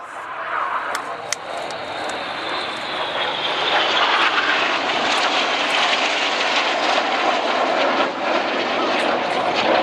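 Red Arrows jets performing the corkscrew at the Farnborough Airshow produce a loud, broad, sustained engine roar that swells steadily as they pass overhead, with a commentator's voice faintly present.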